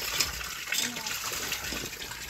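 Water pours steadily for a bath in a home setting at night, a continuous gushing splash filling the whole clip at moderate level.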